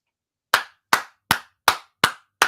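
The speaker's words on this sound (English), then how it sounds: "Everybody give him a clap." Six sharp, evenly spaced claps ring out about every 0.4 seconds, loud and close, from an audience applauding a live performer, White Lavender Jones, with no voices in between.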